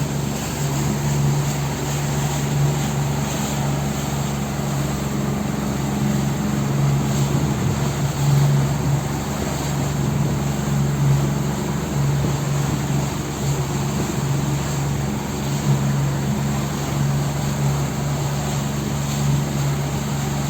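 Steady motorboat engine drone from a Safter 630 Cruiser running at speed, a constant low hum, continuous and fairly loud throughout, no voices.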